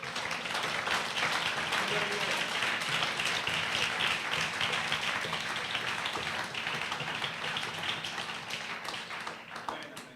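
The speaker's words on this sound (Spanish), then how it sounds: "Dele ese aplauso al Señor." A church congregation claps steadily during a prayer service, a dense patter of applause filling the room for several seconds and slowly thinning toward the end.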